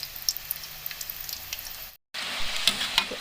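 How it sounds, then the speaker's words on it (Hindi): French fries sizzle and bubble loudly in hot oil during a second frying at home, with a busy crackle of popping oil that cuts out for a moment and then returns. "दोबारा मैं इनको इसके अंदर डालूँगी ऑयल के। दोबारा हमने इनको फ्राई करना है।"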